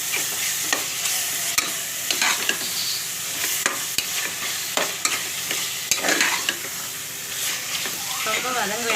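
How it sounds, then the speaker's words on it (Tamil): Cleaned prawns sautéing with half a cup of curd in a pan for prawn biryani, a loud continuous sizzle broken by repeated scraping stirs of a spoon, close up and without speech. "ரொம்ப வதங்க வேண்டாம், லைட்டாக வதங்கினா போதும். ஒரு நிமிஷம் வதங்கினா போதும்."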